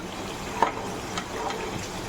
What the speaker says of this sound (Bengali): আলুটা ভাজা ভাজা হয়ে যাচ্ছে